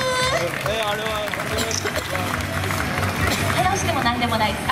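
Audience applause and crowd noise fill a character variety stage show featuring mascots, a steady dense wash of clapping mixed with voices and music throughout.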